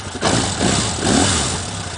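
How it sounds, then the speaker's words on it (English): A 1979 Yamaha XS1100 motorcycle engine with freshly done carbs idles steadily at about 1,000 rpm, a close, loud, continuous rumble with slight surges and no talking. "It idles nice, it picks up nice."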